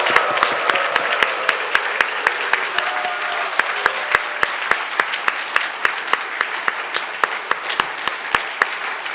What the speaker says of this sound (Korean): 큰 박수로 환호성으로.